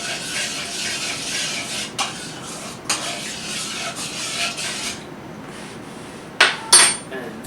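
Bread dough ingredients with salt, sugar and yeast being mixed in a bowl, a steady scraping and stirring rub that runs on with a few sharper knocks and clinks, and no talking.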